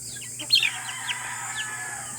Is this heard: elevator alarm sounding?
no